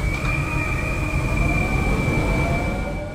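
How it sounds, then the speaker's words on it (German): A train stands at the platform of Álora station in Andalusia, bound for Málaga. It gives a steady, loud rumble with a continuous high whine running through it and no voices. "Auf Gleis 1 steht schon der Zug, der uns in Kürze wieder nach Malaga zurückbringen wird."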